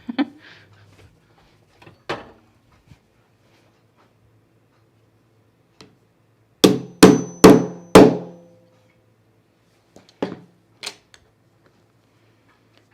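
Several sharp hammer taps strike metal prongs while mending clothing, four quick close blows in a cluster, with a few scattered knocks before and after in a quiet room.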